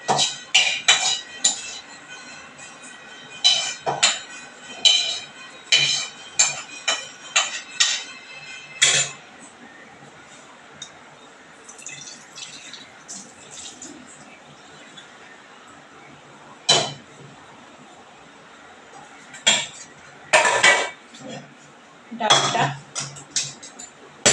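Metal utensils clank and scrape against a cooking pot while soybean curry is poured out and served, a series of sharp, irregular clinks and knocks close by, with quieter stretches between bursts.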